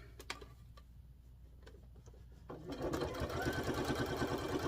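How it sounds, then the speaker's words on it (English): A sewing machine stitching fabric around a corner, first a few scattered clicks and handling taps, then the motor starts up in a fast, steady rattling run that grows louder, close by. "when I get down to my corner, I'm going to sew off at an angle."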